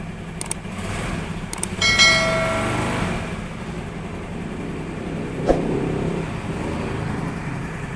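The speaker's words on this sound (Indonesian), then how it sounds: "Sekarang kita geber-geber, coba tipis-tipis." The engine of a carbureted 2011 Honda Scoopy scooter idles with a steady low rumble, rising in a short rev burst and then settling again, with a couple of sharp metallic clicks and a later brief knock.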